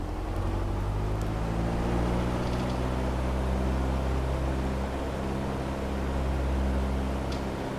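A small airplane's piston engine runs up to 2,000 RPM during a pre-takeoff check, a steady, loud, droning roar with strong low harmonics that holds constant and close throughout, with no talking.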